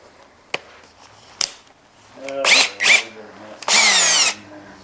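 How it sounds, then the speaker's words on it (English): A power drill on its lowest setting buffs a Ford headlight, whirring in several short bursts, each rising and cutting off, with brief clicks between and a longer run at the end, close by. "Using the lowest setting on the drill."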